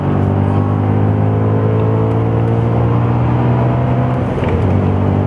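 Audi performance car, one of the S3, RS4, RS5, RS6 or TT RS, driven flat out on the Circuit de Barcelona-Catalunya, recorded onboard: a loud, steady engine drone with dense harmonics fills the cabin the whole time. No one speaks.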